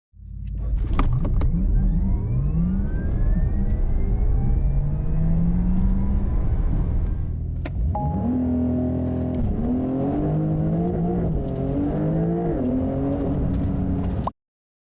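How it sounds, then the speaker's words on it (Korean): Porsche Taycan Turbo S electric car accelerating with its synthetic sport sound, a rising whirring and humming drone that sweeps up in pitch, steady and fairly close, with no talk. "이 스포츠 사운드는 분명히 칭찬할 부분이네요"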